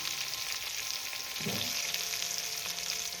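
Turmeric powder and a ground paste of mustard, garlic and green chilli fry in a pan for a bean curry, giving a steady loud sizzle throughout with a brief low splutter midway as the paste goes in.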